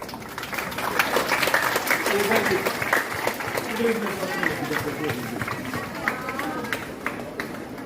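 Classroom audience clapping for a second-ranked student at a spoken English class toppers' event, a sustained wash of many hands at moderate distance, with someone speaking and crowd chatter mixed in.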